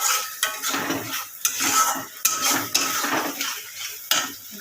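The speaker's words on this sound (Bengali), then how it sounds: "মশলাটাকে একটু কষে নেবো ভালো করে" Spice paste frying in oil in a pan for a fish dish, a metal spoon scraping and clinking against the pan in steady strokes over a constant sizzle, close up with no talking.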